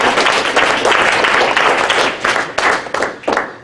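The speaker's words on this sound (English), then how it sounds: "A big round of applause." Loud, close audience applause follows a demonstration of reciting digits of pi, a dense burst of clapping that thins into scattered individual claps toward the end.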